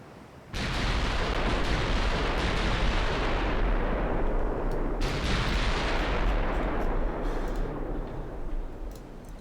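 Heavy warship gun salvo in the naval game Ultimate Admiral Dreadnoughts: a sudden loud blast opens into a long rumbling roar, with a second report midway, sustained and close with no talk.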